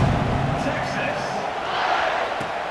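A large stadium crowd in the video game EA Sports College Football 26 roars steadily, a dense wash of cheering and murmur that stays loud throughout.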